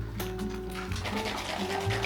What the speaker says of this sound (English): I actually like to put the water in the bag and shake up the remaining matcha